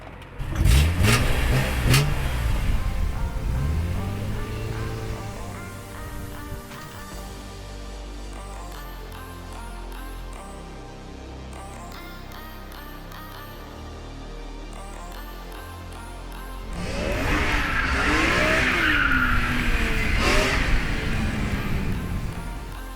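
BMW M3 driven around a parking lot, a close, growling engine rising in loud rev bursts at the start and end with steady lower cruising in between, without talking.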